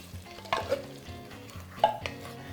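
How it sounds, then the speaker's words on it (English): Two drained cans of black-eyed peas tumble into a soup pot, with stirring and soft sizzling in a couple of clustered thuds and scrapes, close by and moderately loud. "So now I'm just gonna put my black-eyed peas in there"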